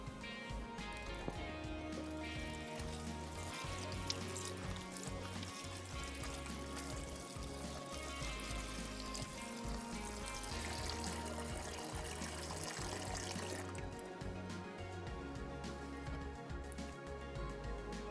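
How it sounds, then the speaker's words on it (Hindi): Running water pouring steadily while raw spinach leaves are washed several times in a kitchen on a cooking show, a continuous splashing trickle with no talk. "तो आपने पालक को 3 से 4 दफ़ा पानी से धोना होता है, ताकि जो मिट्टी है वो अच्छे तरीके से निकल जाए।"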